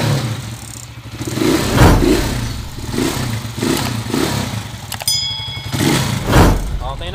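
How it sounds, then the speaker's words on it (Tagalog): Honda TMX155 motorcycle engine, freshly tuned to 155, idling and revving in pulsing bursts close by, with people talking over it. "Napakaganda na ng tunog ng makina."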